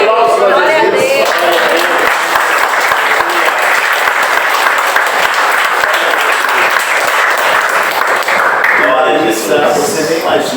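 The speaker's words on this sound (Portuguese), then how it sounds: "Aplausos para Jesus." Loud, sustained applause from a church congregation, dense clapping with cheering voices mixed in, steady for about ten seconds before easing slightly near the end.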